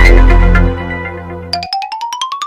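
A mobile phone rings with a bright rising electronic ringtone, a quick series of chiming notes that climb in pitch, entering loud and close after a low droning tone fades out.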